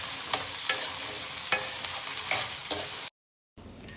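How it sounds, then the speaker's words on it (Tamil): Small onions sautéing in sesame oil in a pan, a steady close bright sizzle with occasional stirring scrapes, cutting off briefly near the end before a quieter sizzle resumes. "நல்லா வெங்காயத்தை போட்டு நல்லா வதக்கி விடுங்க"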